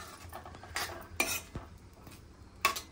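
Thick cooked dal poured into a hot tadka tempering in a pan, giving soft clinks of spoon against metal and a brief wet pour with faint stirring, close and without talk.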